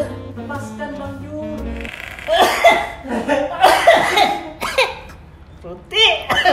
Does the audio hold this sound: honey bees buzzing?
no